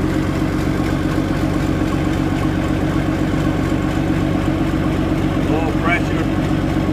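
Bulldozer diesel engine idling cold after cranking, a steady loud low rumble throughout with a brief squeak near the end.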